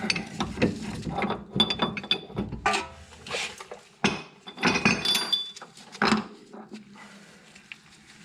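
Ball joint press being turned by hand to push a pillowball bearing out of an FD Mazda RX-7 suspension part, giving repeated ratcheting clicks and metallic creaks in irregular bursts, with sharper pops near the end, close up and fairly loud.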